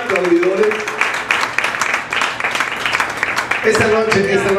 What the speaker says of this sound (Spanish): Bueno, el aplauso, que se haga la fiesta, señores, de esta noche